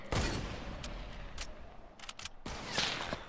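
Gunshots in Fortnite, a handful of loud sharp cracks and short bursts spaced over a few seconds, with no talking.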